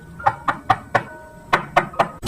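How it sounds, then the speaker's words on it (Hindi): Knocking on a wooden door: two groups of sharp raps, four quick knocks, a short pause, then four more, close and distinct with no talk. "तभी उसके दरवाजे पर खटखटाने की आवाज आती है"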